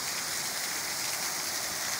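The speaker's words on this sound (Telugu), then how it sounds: "చూడండి వర్షం చూడండి ఫ్రెండ్స్" Steady rain pours down in a village, a dense, even hiss of drops hitting surfaces with no pauses.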